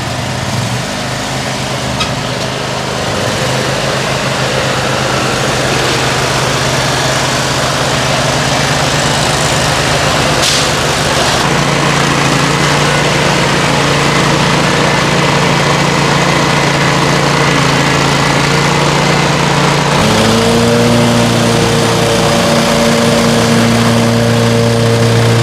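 A lawn mower engine runs loud and close throughout, holding a steady drone that shifts pitch a few times, with no talk.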